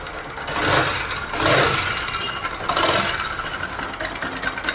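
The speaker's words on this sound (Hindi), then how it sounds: "बाइक को काफ़ी मशक्कत के बाद में स्टार्ट कर दिया है, अब इसकी साउंड जो है आता है ये पास।" A Bajaj Discover 125 motorcycle engine, just restored and started after much effort, runs steadily nearby, its rough mechanical drone swelling a few times as the throttle rises and falls.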